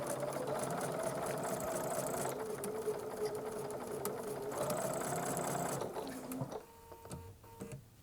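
A sewing machine runs steadily, stitching fabric hexagon pieces with a fast, even mechanical whir. It pauses briefly near the end and then runs again in shorter, quieter bursts, with no talking.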